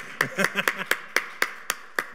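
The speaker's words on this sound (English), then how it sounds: "clap, clap, clap for Frank" Sparse clapping from a small audience greeting a guest at an evening talk, about nine separate sharp claps in an uneven rhythm, close and fairly loud, with a little murmuring over the first few.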